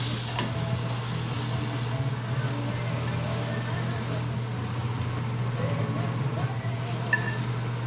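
Food seasoned with celery salt, pepper and salt cooks in melted butter in a pan, giving a loud, continuous broadband sizzle with a steady low hum underneath and an occasional faint clink, close up with no speech.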